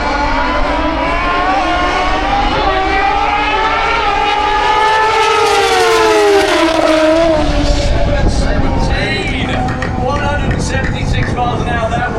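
Drag racing cars making a run at Santa Pod raceway roar loud and close, their engine pitch sweeping up and then dropping as they pass, before fading into crackling exhaust noise.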